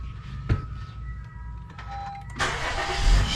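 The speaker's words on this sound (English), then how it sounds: "start your car" A car parked roadside while a flat tire is being fixed is started: a quiet pause with a sharp click, then the engine catches with a loud broadband surge and settles into a running rumble.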